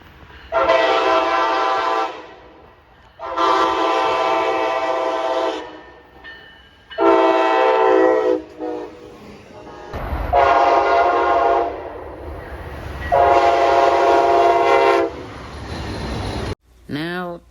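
Nathan K5LA horns on a Siemens Charger locomotive, blown in a series of loud, close, sustained blasts separated by short gaps, the chord ringing strongly before cutting off sharply each time.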